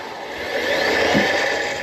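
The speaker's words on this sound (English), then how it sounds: "let's drill this thing out" A power drill whirs steadily, its pitch wavering slightly as it bites into metal while drilling out a part on a 1984 Harley-Davidson FLT Tour Glide final drive, loud and close for a couple of seconds.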